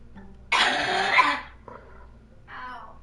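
A person coughs in a loud, harsh burst lasting about a second, followed by shorter throat-clearing sounds, close to the listener in a quiet room.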